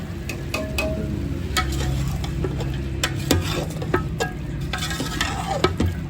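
Vegetables, including carrots and peas, stir-fried in a pan for a macaroni dish: a steady close sizzle broken by frequent sharp clanks and scrapes of a utensil against the metal pan, with no voices.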